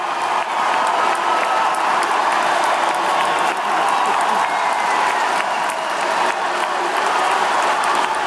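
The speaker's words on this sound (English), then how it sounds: "the people cheering might be watching people wearing spandex and a lot of bedazzling" A large crowd at a sports event cheers and applauds continuously, a loud, dense wash of claps and roaring voices with no break.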